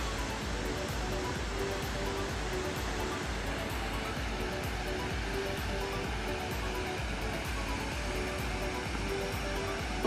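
Fukuroda Falls waterfall, a dense, continuous roar of flowing water that stays loud and even throughout with no break.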